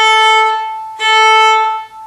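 Open violin strings sound in two long bowed notes for the Seagull Song exercise, each clear and sustained, with the second starting sharply and then cutting off.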